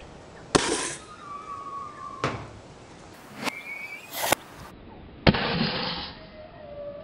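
A 40mm Nerf launcher fires Mega XL half darts at a target 45 feet away, giving several sharp, loud pneumatic pops spaced a second or more apart, each followed by a brief whistling tail as the dart flies off.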